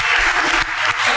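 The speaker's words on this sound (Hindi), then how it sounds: "उसके बावजूद इतनी अच्छी तालियां" Brief burst of audience clapping during a Zafri Khan Show Eid special, loud and close but lasting only about a second.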